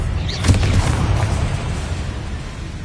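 A Bombarda spell blast in Hogwarts Legacy gives a deep, rumbling boom with a sharp burst near the start, fading into a low roar across the short stretch.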